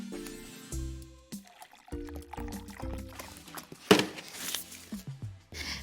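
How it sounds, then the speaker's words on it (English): Water pours into a big jar, heard up close as an irregular run of gurgles, splashes and trickling pulses that come and go, with brief pauses and one sharper splash near the middle. "Fill a big jar or vase or tank about 2/3 full of water."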